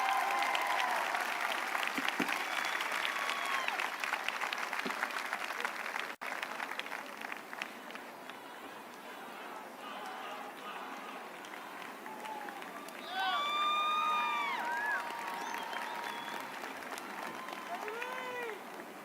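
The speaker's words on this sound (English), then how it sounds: "Let's give yourself a round of applause." A graduating class applauds at a school commencement ceremony. Steady clapping fills the hall at moderate volume, then fades, and bird-like whistles or cheers appear toward the end.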